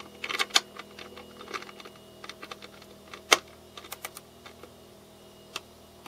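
Soft, subtle clicks come from a torque wrench set to 5 newtons tightening a nut on a Hydrofin rudder fitting, scattered irregularly over a quiet background, with one sharper click midway.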